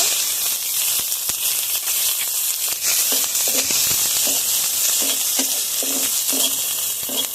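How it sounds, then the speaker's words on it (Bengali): Loud, steady sizzling and crackling of chopped onions frying in hot mustard oil, with occasional spatters and faint stirring scrapes, close up and continuous. "ওই তেলের মধ্যে এখন পেঁয়াজ কুচি ভেজে নেব"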